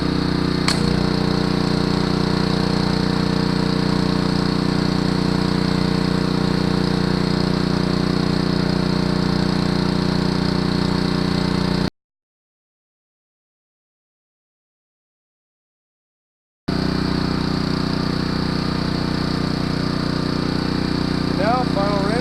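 A gas-powered pressure washer engine runs steadily and loudly with a constant drone, cutting out for a few seconds before resuming.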